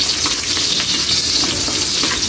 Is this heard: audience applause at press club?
no